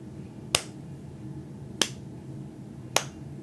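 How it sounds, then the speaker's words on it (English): Three sharp, isolated hand claps spaced about a second apart, each loud and close against a quiet room with faint background hum. "I'm going to clap"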